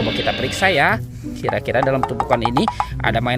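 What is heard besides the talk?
None of the usual background noises is heard.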